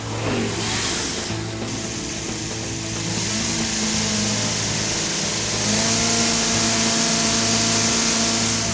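A car engine revs hard on a dyno during a shootout, a loud sustained roar that holds steady and then climbs in pitch toward the end, with no voices over it.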